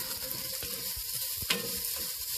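Garlic sautéing in a pan for beef kaldereta gives a steady, close sizzle with a few scraping stir strokes against the pan, with no talking.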